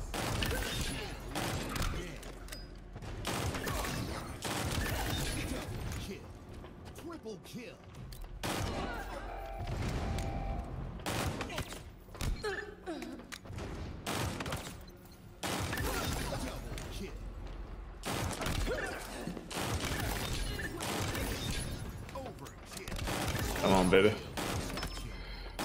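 Rapid bursts of gunfire from Halo Infinite crackle in repeated volleys, loud and close, with short pauses between bursts, while a voice talks over parts of the shooting.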